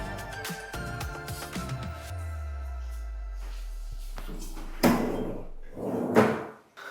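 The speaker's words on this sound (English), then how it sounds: "modular kitchen cabinets with soft closures" Modular kitchen cabinet drawers with soft closers slide and shut, a run of rolling slides ending in gentle cushioned stops, followed by a couple of louder thuds and rustles nearby.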